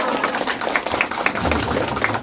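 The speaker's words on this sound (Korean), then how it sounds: "박수로 환영해 주시기 바랍니다" An audience applauds to welcome guests at the opening of a Gangnam candidate's campaign office, with steady, dense clapping that holds at an even level for a couple of seconds.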